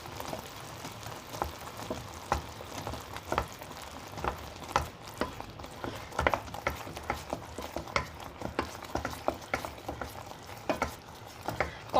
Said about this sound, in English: you need to add cream while continuously stirring it so that it mixes well